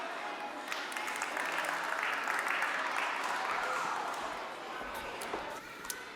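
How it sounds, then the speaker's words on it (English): Audience at a business innovation talk applauding a Morgan Stanley Hungary managing director, a sustained wash of clapping from many hands that stays fairly even and tapers slightly at the end. "Ladies and gentlemen, a huge applause for the Managing Director of Morgan Stanley Hungary, Norbert Fogarasi"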